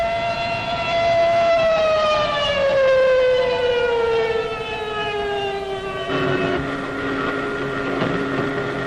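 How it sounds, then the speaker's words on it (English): An air raid siren wails over a WWII German fighter airfield, a loud sustained tone sliding slowly downward in pitch before a second rising note breaks in, heard alone with no voices. "Alarm sirens wail over the German fighter fields and pilots sprint to their planes."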